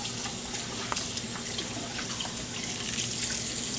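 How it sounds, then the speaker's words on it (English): Tap water runs steadily into a sink while a denture cup is emptied and rinsed, a continuous close splashing hiss with a few brief clinks and spatters and no speech. "I'll dump the dirty water into the sink. I'll go ahead and rinse out the cap."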